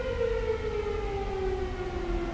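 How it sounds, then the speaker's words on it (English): A civil defense style fire siren summons firefighters to a fire in South America. A steady wailing tone drifts slowly downward, heard from a distance over low background noise. "Apparently that's just the fire alarm for the fireys to get up because there's a fire somewhere."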